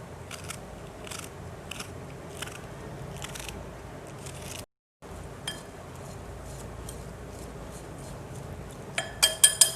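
A knife slices bell pepper with a series of crisp, close crunching cuts in an irregular rhythm, broken by a brief gap, ending with a few sharper clinks.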